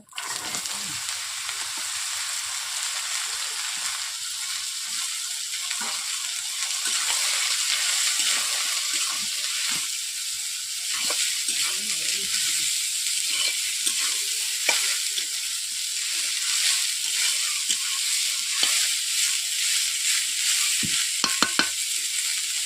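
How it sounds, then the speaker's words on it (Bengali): Bottle gourd hits hot oil with panch phoron and bay leaves in a pan for a chutney, giving a loud continuous sizzle with stirring scrapes throughout and no talking. "নিয়ে নিচ্ছি 5 ফোড়ন, নিয়ে নিচ্ছি 2টো তেজপাতা, আর দিয়ে দিচ্ছি লাউ"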